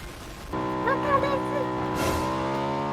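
A game car's engine drones steadily, its pitch rising as it approaches and revs, with a whoosh partway through.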